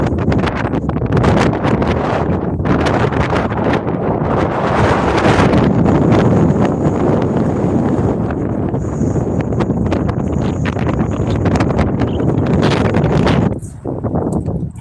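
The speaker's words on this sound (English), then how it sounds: "I hear that wind here. That wind is dangerous." Strong outdoor wind buffets the microphone in a heavy, continuous roar with gusty surges, easing briefly near the end.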